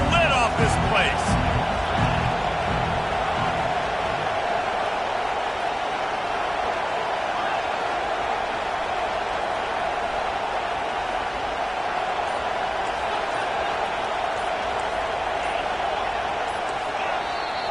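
A stadium crowd in College Football 25 roars steadily and loudly through the whole stretch, a dense continuous wash of cheering with a commentator's voice over it.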